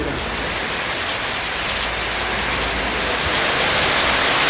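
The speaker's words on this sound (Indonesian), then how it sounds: "sekarang hujannya bener-bener deras banget ini" Heavy rain pours down on a mountain hiking trail on Gunung Lawu, a dense, steady hiss of downpour that stays loud and unbroken, growing slightly heavier toward the end, with no voices.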